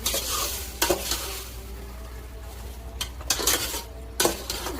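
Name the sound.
stirring chicken biryani masala in a pan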